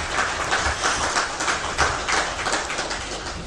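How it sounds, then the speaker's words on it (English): A room full of people at a ministers' press briefing claps for the Honorable Minister, dense even applause sustained throughout, with no voices over it. "a bigger round of applause for Honorable Minister"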